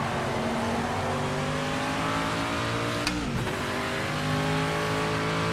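A video game racing car engine in Project Motor Racing roars continuously at high revs, pitch sweeping up and down through gear shifts, with a brief dip and snap mid-way.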